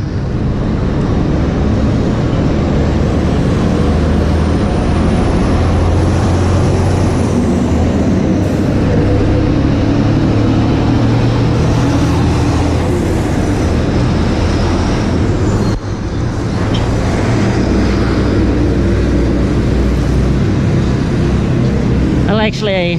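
Loud, continuous traffic roar on a national highway in Castijellos, Zambales, Philippines, with heavy vehicles rumbling past and a brief high brake hiss, a person talking over the noise.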